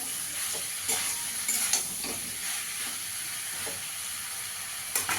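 Vegetables for a Bengali niramish sabji are stirred and fried in a pan. There is a soft, steady sizzle and hiss with occasional scraping stirs, faint and close, with no voices.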